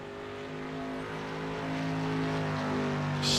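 A street stock race car laps an oval track, its engine a steady, sustained drone at a moderate distance that slowly swells louder.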